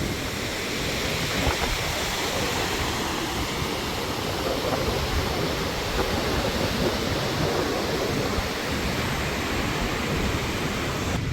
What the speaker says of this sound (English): the waves are a little less today than they've been for the last week and a half I've been here